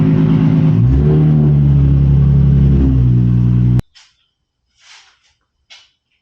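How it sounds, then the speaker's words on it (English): A Nissan 350Z engine rumbles loudly up close as the car pulls into a garage, the revs rising and settling before the engine cuts off abruptly, followed by a few faint scuffs and clicks. "I'm gonna go ahead and pull in the 350Z"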